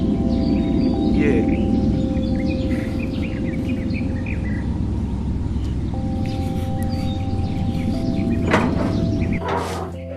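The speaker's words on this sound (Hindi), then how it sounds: "पक्षियों की चहचहाट" Birds chirp and call at dawn over a village, with scattered high tweets above a dense, steady bed of insect and ambient rural noise and a brief louder burst near the end.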